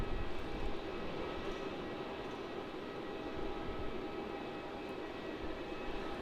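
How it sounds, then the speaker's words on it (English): An Air New Zealand Airbus A320neo arriving from Wellington at Melbourne Airport in a strong headwind, its engines a steady distant roar with rushing wind. "arriving here we have NZ253, an Airbus A320neo coming in from Wellington"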